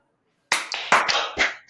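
A few sharp hand claps from a small group finishing a wrestling-recap show segment, ringing out after a short silence, close and loud, with scattered voices mixed in.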